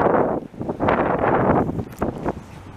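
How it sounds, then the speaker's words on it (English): Gusts of wind blow across the microphone in uneven surges on a street in Montreal, rising and falling in loudness with brief lulls. "now it's getting windy"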